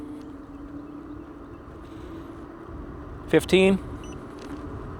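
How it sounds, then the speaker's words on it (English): A KOWOEE E8 Pro electric scooter accelerates at full throttle with a steady low motor hum and road rumble, while a rider counts briefly over it. "let's do an acceleration run here, and then we will check the top speed. Throttle only, let's go."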